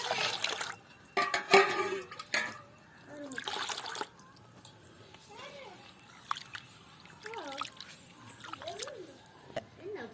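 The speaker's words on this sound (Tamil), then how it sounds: "பருப்பை 2 நேரம் 2 தண்ணியில் நல்லா கழுவி எடுத்து போட்டு" Lentils for dal being rinsed in water in a village kitchen, with intermittent splashing and sloshing bursts alongside clinking of a pot, while a person talks through much of it.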